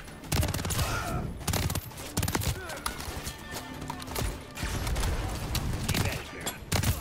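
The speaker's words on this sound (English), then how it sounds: "There's enemy fire." Enemy gunfire in the Modern Warfare 3 campaign: dense bursts of automatic fire and sharp shots crackle throughout, loud and close, with chaotic battle noise and a voice speaking over parts of it.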